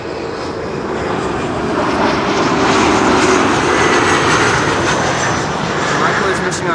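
A CRJ regional jet from Munich lands on runway 06, the Kaagbaan, at Amsterdam Schiphol with a loud, broad engine roar that swells and then holds steady throughout.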